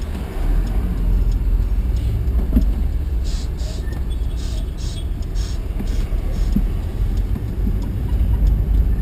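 Steady low rumble of road traffic with idling engines, a continuous broad hum and occasional faint higher hisses, no one speaking.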